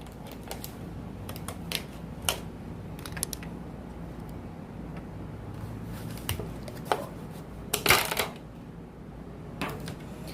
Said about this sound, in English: we're going to cut it up. Cut it open. Get a slice.